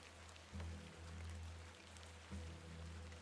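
Rain in The Excavation of Hobs Barrow point-and-click horror game, a faint, steady hiss of falling rain over a low hum, with a couple of soft thuds, no voices.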